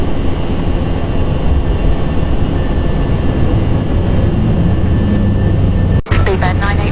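Airliner engines roaring during the takeoff climb just after gear up, a steady loud cabin drone with a faint tone running through it, briefly cut near the end by a radio voice.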